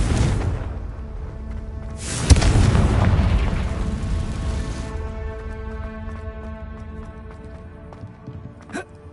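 A Confringo spell explodes in Hogwarts Legacy with a sharp booming blast, followed by a long rumbling decay and a lingering tonal hum, then a small pop near the end.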